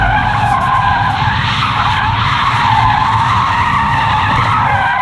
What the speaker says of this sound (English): So yes, it does do donuts